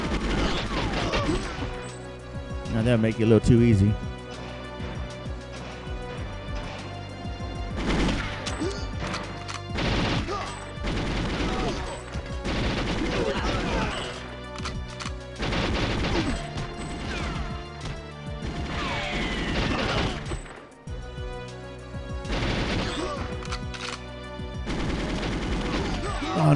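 Bursts of enemy gunfire ring out in GoldenEye on the N64, sharp repeated shots and rattling volleys scattered across the stretch alongside game music, with someone talking over the action.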